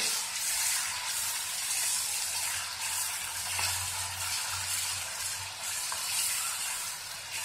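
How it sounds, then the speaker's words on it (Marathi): A ground paste of green chili, garlic, ginger, coriander and coconut sautés in a pan over a low flame, making a steady hissing sizzle with one brief scrape partway through, close by and without speech. "आता आपण ही पेस्ट यात घालून चांगली व्यवस्थित परतून घेऊ"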